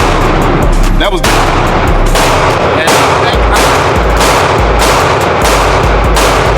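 Handgun shots during shooting drills ring out close and loud, a string of sharp cracks spaced irregularly across the stretch amid outdoor range noise, with brief voices in between.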